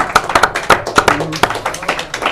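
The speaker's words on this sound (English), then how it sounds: "a round of applause for the Lake Orion freshman basketball team" Scattered clapping from a small group applauding a freshman basketball team, separate uneven claps in a loose rhythm, close and fairly loud, with a brief low hum in the middle.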